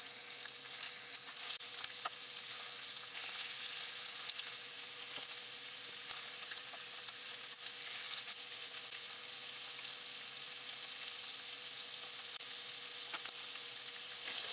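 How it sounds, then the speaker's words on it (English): Red sea bream fillets sear skin side down in a hot pan, giving a steady, dense sizzle and crackle that holds at an even level throughout with no one speaking. "It tastes better if you sear the skin side well."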